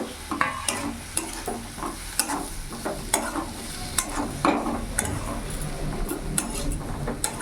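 Fried potatoes being stirred into a fish curry in a pan, a steady run of spoon clinks and scrapes against metal over a continuous sizzle, close and moderately loud, with no talking.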